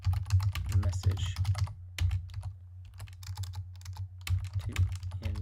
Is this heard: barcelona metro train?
no